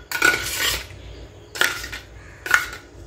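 A spoon whisks sugar and a pinch of salt into curd in a bowl, heard as three bursts of metallic scraping and clinking against the bowl, close and fairly loud, with no voices.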